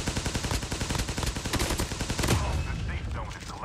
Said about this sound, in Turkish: Bak adam size keskin atıyor havadan aşağıdan